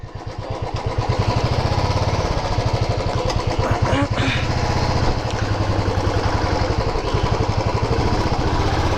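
A motorcycle engine runs steadily and loud, close by, with a constant rumbling drone throughout, in a Jammu neighborhood setting.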